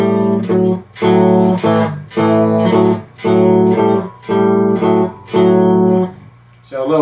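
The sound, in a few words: cigar box guitar playing a riff slowly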